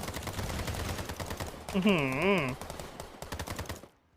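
Rapid machine-gun fire rattles continuously in a zombie video game, dense bursts with a sustained wavering voice-like wail rising over the shooting midway before it cuts off.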